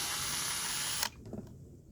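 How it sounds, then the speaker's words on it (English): A rotary power tool whirs steadily while cleaning rusty screws from a Yamaha XVS 1100 Classic motorcycle, then cuts off abruptly, followed by a few faint clicks of small parts. "I'm going to clean up the screws a bit too."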